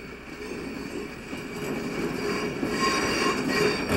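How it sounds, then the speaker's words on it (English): A Pennsylvania switcher locomotive eases a few head-end cars into a Chicago station, with a steady rolling rumble, faint wheel squeal and metallic rail noise that builds slightly louder as the cars approach, no voices. "a Pennsylvania switcher brings a few head-end cars into the station."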